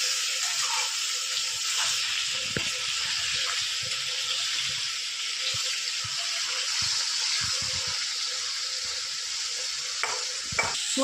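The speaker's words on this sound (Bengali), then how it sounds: "সোয়াবিনগুলো আমি ভিজিয়ে রেখেছিলাম, এবার চিপড়িয়ে তুলে নেব। জলগুলো এইভাবে চিপড়ে নেব।" Soaked soybeans being squeezed by hand to press out the water, giving a wet, splashy trickle with soft squelches and drips that runs steadily throughout at close range, with no voices.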